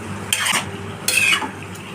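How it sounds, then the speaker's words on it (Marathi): Capsicum being stirred in a pan, with two distinct scraping strokes of a utensil against the pan over a steady low background, close and fairly loud. "नंतर हलवत राहायचं"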